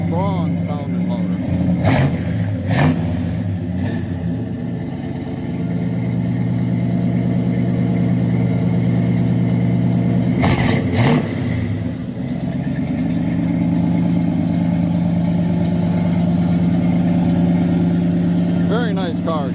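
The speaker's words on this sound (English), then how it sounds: "Good sounding motor, real good, strong sounding motor." A 1966 Chevrolet Chevelle SS 396 with a four-speed sits idling with a deep, loping rumble, broken by a few sharp throttle blips and one longer rev near the middle before it settles back.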